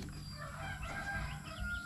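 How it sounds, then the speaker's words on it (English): Chickens, including 45-day-old birds, clucking and crowing nearby, a steady fowl chatter with a low background hum and no talking. "So here's one of the chickens."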